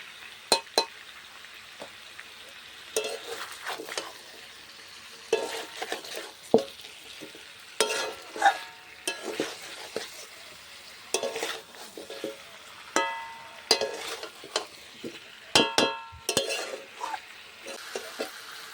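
Chicken and vegetables, papaya among them, fry in a pan for stew with a soft sizzle, while a spoon stirs and scrapes in irregular bursts with occasional clinks of metal against the pan.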